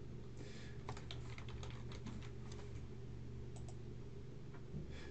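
Keys tapped on a computer keyboard while a password is entered, a quick uneven run of light clicks over a steady low hum, with no talking.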